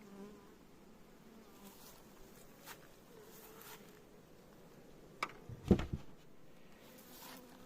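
Honey bees drone around an opened beehive during queen introduction, a continuous close buzzing with a few sharper handling knocks and rustles near the end, no speech.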